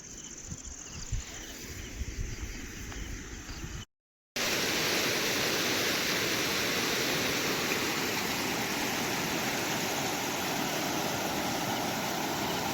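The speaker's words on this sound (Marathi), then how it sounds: "डिग्रजच्या कृष्णाकाठचा हा ओढा आहे" A stream near the Krishna river bank at Digraj flows with a steady, dense rushing wash, loud and continuous after a short cut, with faint outdoor ambience and insect-like hiss before the break.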